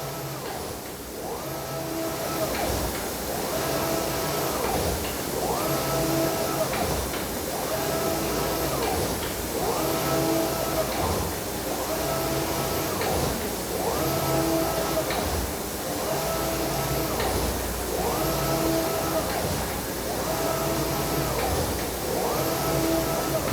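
A garment printing machine in a clothing factory prints fabric panels such as backs and sleeves, cycling in a steady rhythm of about a dozen repeated mechanical passes roughly every two seconds over a loud continuous hum.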